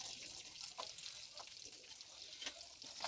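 Onion fries in oil with garlic, cumin, pepper and fennel, making a steady, faint hiss with soft bubbling crackles and occasional stirring clicks nearby.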